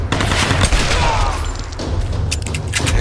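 Rapid gunfire fills a Tomb Raider video game firefight, a dense, loud, continuous barrage of shots with booming impacts throughout.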